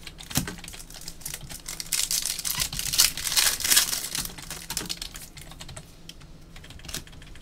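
Fast clattering keystrokes on a computer keyboard, dense and close, swelling into a busier burst midway before thinning out into scattered taps.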